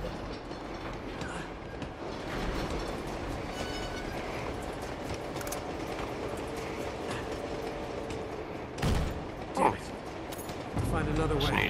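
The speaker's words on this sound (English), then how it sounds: "I've been literally going on this train for about 20 minutes now." Train ride in the Uncharted 2: Among Thieves video game, steady rumbling rail noise and wheel clatter throughout, with a few sharper knocks near the end and a person talking over it.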